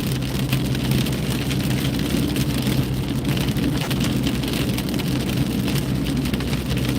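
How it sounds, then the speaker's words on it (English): Small hail and rain pelting a vehicle during a storm chase drive, a steady dense patter with the low rumble of the car underneath, continuous and fairly loud, no talk. "Almost sounds like small hail."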